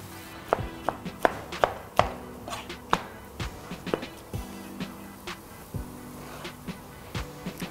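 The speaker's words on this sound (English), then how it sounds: "Just a rough chop because we're going to blend our sauce anyway" A knife roughly chops vegetables on a board for a blended tomato-based sauce for Kenyan samaki wa kupaka, about a dozen close, sharp chops in an uneven rhythm with brief pauses between bursts.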